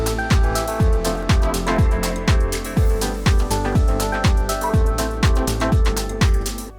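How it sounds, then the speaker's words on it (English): A chill deep house loop built in FL Studio: a steady four-on-the-floor kick with deep bass thumps on each beat, sustained chord pads and bright hi-hat ticks, loud and continuous without any voice. "a small chill deep house idea that I made the other day"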